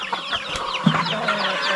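Chickens, including laying hens on a Philippine farm, cluck softly in short scattered calls against a quiet rural background, with a brief louder cluck near the middle and no voices.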